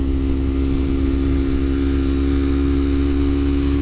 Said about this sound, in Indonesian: Suara knalpotnya juga enak gue ini. Akrapovic lah, emang ada duanya itu.